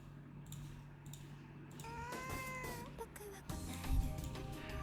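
A house cat meows several times in a row, fairly clear but moderately quiet, over faint room background and light clicking.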